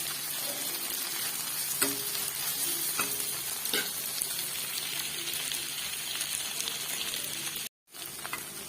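Paneer frying in a pan gives a steady, even sizzle with occasional stirring scrapes, heard fairly close and alone, with a brief dropout near the end.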